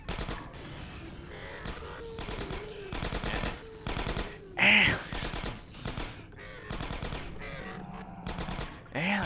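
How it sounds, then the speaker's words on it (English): Rapid automatic gunfire from a Half-Life 2 mod firefight against antlions, with repeated loud bursts of shots separated by short gaps, close and dominant throughout. "Alex, stop shooting him!"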